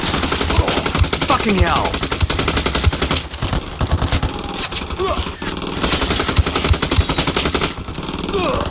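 Rapid automatic gunfire and bursts of shots in the Ghost Recon Wildlands video game, loud and continuous through a firefight, with a shouted exclamation over the shooting.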